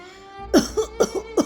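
A woman's cough comes in a short burst of several harsh, close coughs, one after another, with a faint hum of background noise.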